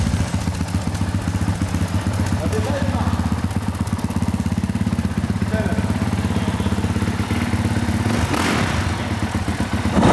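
A brand-new motocross bike with zero hours and a fitted turbo runs on its engine. It gives a steady, close, low rumbling idle with mechanical clatter and one brief thud near the end, and voices may be present.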